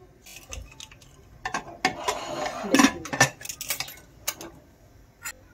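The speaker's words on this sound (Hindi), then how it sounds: "अब हम अपने कुकर का ढक्कन लगा देंगे" A metal pressure cooker lid is fitted and closed on the pot while cooking taro and mutton, heard as a series of close, sharp metallic clinks and scrapes with a brief rattling cluster in the middle.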